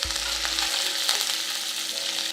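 Ginger, green chilli and curry leaves sizzle in hot oil as a tempering for semiya upma, a steady, close, bright frying hiss that runs continuously without pause and with no voices.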